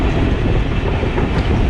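Pakistan Express train rolling over rails as it takes a curve, a loud, steady rumble of wheels and carriages heard up close from aboard, continuous throughout without talk.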